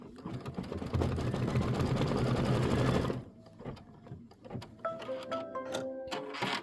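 Embroidery machine stitching the trim line of a 22-inch quilted pillow, a loud close rhythmic chatter for about three seconds that stops abruptly, followed by quieter handling clicks and faint rustling.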